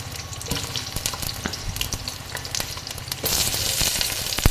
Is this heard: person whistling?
no